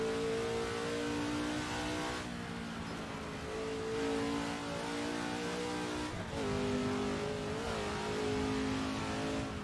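A car engine pulls hard and steady uphill through the hills, revving up and briefly easing between gear changes, with a continuous droning roar from inside the vehicle.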